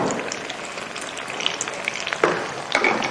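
Sohan halwa being stirred fast with a spoon in a pan over gentle heat, a steady soft sizzle with scraping spoon clicks and a few sharper knocks near the end, close and fairly loud, no talk.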